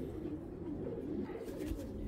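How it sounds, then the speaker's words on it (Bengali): A large, restless ringed pigeon coos softly and repeatedly, close but faint, against a low background hum. "এই রিংয়ের কবুতর কিন্তু সচরাচর পাওয়া যায় না"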